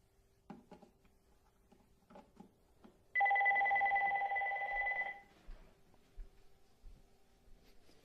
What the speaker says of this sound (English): That's my phone in the background.